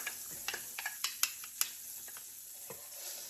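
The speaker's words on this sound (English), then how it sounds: "we're just going to stir it till the lumps are gone" Cornstarch being stirred into hot sauce in a pan for chicken and mushroom, with a spoon scraping and tapping the metal in short irregular strokes over a faint steady sizzle.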